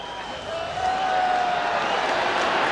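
A large football crowd of over 30,000 at Newcastle, a loud, steady roar of cheering and chanting that swells after the first moment and stays dense, with a whistle tone cutting through briefly.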